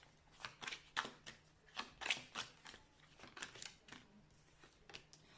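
Oracle cards are shuffled in quick, soft papery riffles and taps, a close, fairly quiet run of irregular bursts with no talking.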